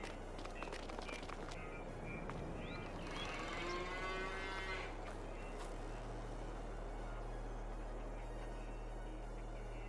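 Cows mooing in the farming video game Farming Simulator 22, a few drawn-out low moos near and far over a steady background hum, with faint clatter around them.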